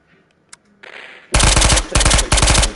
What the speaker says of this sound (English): Continue firing until the magazine is empty.